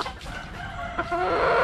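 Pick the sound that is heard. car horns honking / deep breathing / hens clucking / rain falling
hens clucking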